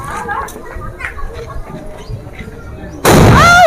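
A firecracker goes off at a village Lebaran celebration with a sudden, very loud, close blast near the end. Before it, voices and outdoor background noise fill the scene.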